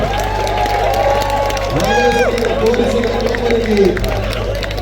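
Crowd cheering and clapping at an Onam tug of war contest at Lulu Mall in Palakkad, a steady roar of voices mixed with applause, with a loud announcer talking over it throughout.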